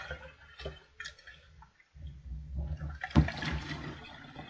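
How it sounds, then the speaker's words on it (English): Spiced cider poured from a carton through an angled opening, a gurgling liquid stream with a brief pause and a louder splash near the end. "angle it and pour."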